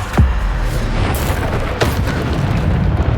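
Bombarda explosion spell from the Hogwarts Legacy video game: a loud booming blast near the start, then a second burst midway, over a constant dense rumble of game action.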